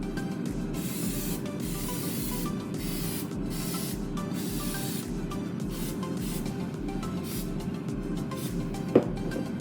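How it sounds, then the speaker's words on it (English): Olive oil sprayed over egg rolls in a preheated air fryer basket, a steady close hiss in short repeated bursts above a constant hum of the running fryer, with one small sharp click near the end. "let's spray some olive oil on top."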